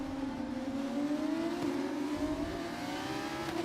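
A Formula 1 race car engine in the video game F1 25 rising steadily in pitch as it accelerates, a loud, smooth, high whine with climbing harmonics heard alone throughout.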